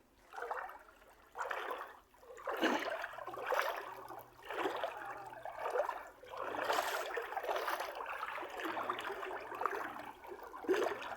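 Flood water around a Bangladeshi village sloshes and splashes in repeated rough bursts, roughly one per second, like something moving through it, fairly close and unaccompanied by talk.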